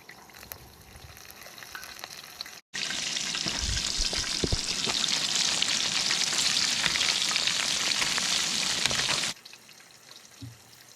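Breaded invasive green crabs sizzle loudly and steadily in hot oil for several seconds, a dense crackling fry close by that starts and stops abruptly.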